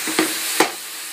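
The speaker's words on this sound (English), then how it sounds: "I'm just cooking the mushrooms up with a bit of oil and butter" Mushrooms cooking in oil and butter in a pan, a steady soft sizzle with two short scraping stirs near the start, close by and with no one talking.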